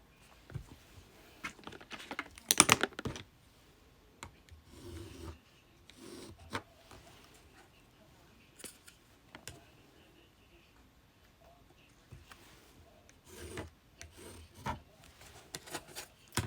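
Pen or marker strokes drawing lines on a vintage fabric pattern for a dress block, faint scratchy rubbing in short irregular bursts with quiet gaps, heard close with no talking.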